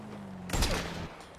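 A single sharp sniper rifle shot from GTA V cracks out loudly at mid-clip, its boom tailing off over a steady low tone in the game's background.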